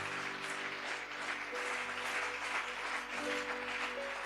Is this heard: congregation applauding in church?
yes